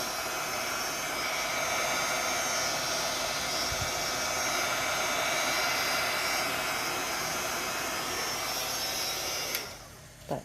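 A heat tool blows a loud, steady rushing whine while warming an alcohol-ink tumbler. It stays close and constant for about nine seconds, then cuts off abruptly.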